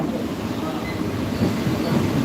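Mumbai local train in motion, with a continuous low rumble and rattle of the carriage throughout, fairly quiet and unbroken.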